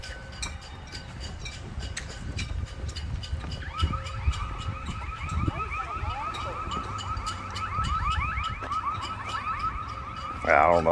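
A car alarm blares outside, cycling through its repeating warbling and whooping tones from the middle onward over street noise, preceded by faint background rumble and scattered clicks.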